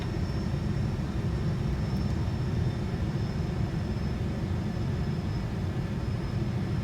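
Airbus A340 jet engines in Microsoft Flight Simulator: a steady, loud, deep roar with a thin high whine on top, continuous and unchanging throughout, with no talking.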